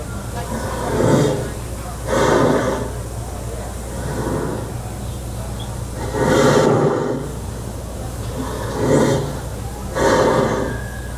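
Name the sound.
train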